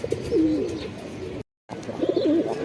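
Shahjahanpuri pigeons coo nearby in two short rolling bursts, separated by a brief moment of silence, over a low background murmur.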